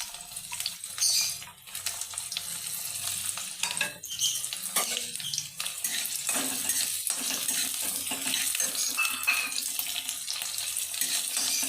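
Onion, chili and garlic hitting hot mustard oil in a pan, giving a steady crackling sizzle with scattered clinks and stirring scrapes, close and continuous throughout.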